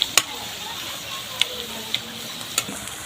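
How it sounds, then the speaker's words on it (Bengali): Onion frying in a pan for taro greens, a soft continuous sizzle under a few sharp clicks and taps of a utensil, with some faint voice in the background. "পেঁয়াজটা বসিয়ে দিলাম, তো ভাজা ভাজা করে নিচ্ছি"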